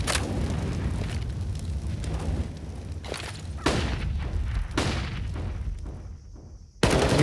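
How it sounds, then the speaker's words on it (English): Gunfire in a professional Counter-Strike match on the Ancient map, with a Galil among the weapons and an HE grenade thrown: sharp single shots and short bursts with booming reports, loud and close, no talking. "Yuurih boosted, spots out Buster, but the Galil only grazing his shoulder, and he cops a HE in response"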